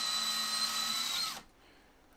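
A power drill runs steadily at full speed while drilling parts for a Voron V2.4 3D printer gantry, then cuts off abruptly, leaving near silence and a faint click.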